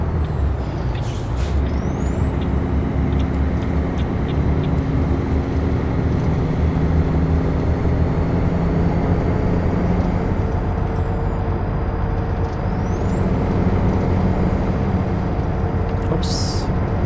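A truck in American Truck Simulator under emergency braking: a steady, loud engine and road rumble with high whining tones sweeping up and down and short hissing bursts from the air brakes.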